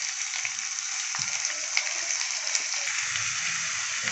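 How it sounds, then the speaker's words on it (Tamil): Chopped onions sizzle and fry steadily in hot oil in a pan, a dense continuous crackle with small pops throughout, close and fairly loud with no talking. "ஒரு பேன் எடுத்துக்கோங்க. அதில் வந்து கொஞ்சமாக எண்ணெய் ஊற்றிக்கோங்க. இதில் பொடியாக கட் பண்ண வெங்காயத்தை சேர்த்துக்கலாம்."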